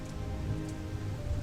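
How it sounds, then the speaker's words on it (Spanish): Rain falling after a small cloud grows on the horizon, a soft, even patter of drops on a surface, steady and fairly faint, with no voices. "Y después empezó a llover."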